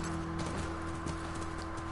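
Horse hooves clip-clop in The Last of Us game, a soft, steady patter of steps heard faintly beneath a constant hum of game background sound.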